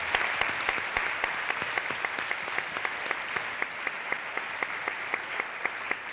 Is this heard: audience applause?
yes